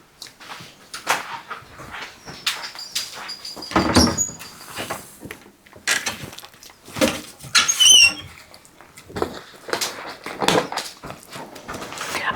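A kitchen cupboard opened to fetch a small lidded bowl: scattered knocks, squeaky hinge and rattling clatter in an uneven sequence of close, moderate handling sounds, no talk.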